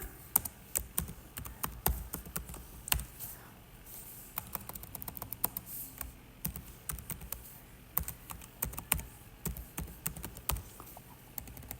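Keys tapped on a computer keyboard in an irregular typing patter, with clusters of quick clicks and brief pauses, fairly quiet and close, with no speech over it.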